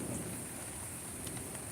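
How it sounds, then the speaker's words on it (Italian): Steady rain falls outdoors during an evening thunderstorm with lightning strikes nearby, a dense even patter throughout with faint distant rumbles and no voices. "In effetti la pioggia è diminuita, ma i fulmini no"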